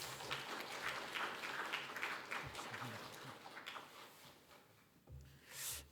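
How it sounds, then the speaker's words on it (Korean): Church congregation at a Wednesday prayer meeting applauding to welcome a missionary, a soft, distant wash of clapping that slowly thins out, with a few low thumps and voices murmuring beneath. "우리 한번 하나님께 크게 영광과 격려의 박수 한번 드리도록 하겠습니다"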